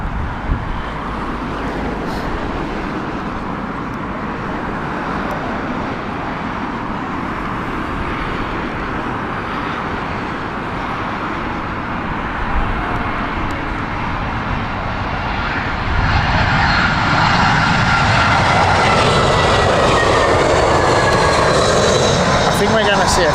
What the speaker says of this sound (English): We have British Airways inbound, the Dublin flight here.